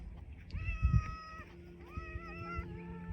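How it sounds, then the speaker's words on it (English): A chatty farm cat meows twice in a row, each call a drawn-out, rising-and-falling cry, close and fairly quiet, with faint outdoor rustling and light handling noise underneath. "A little chatty cat here."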